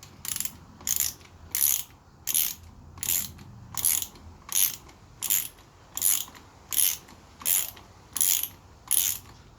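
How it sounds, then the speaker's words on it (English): Torque wrench tightening motorcycle clutch bolts on a Kawasaki Z1000 slipper clutch, about a dozen evenly spaced sharp ratcheting clicks, close and clear against a quiet background. "We don't want to be stripping anything, so you definitely need your torque wrench."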